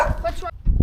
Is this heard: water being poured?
no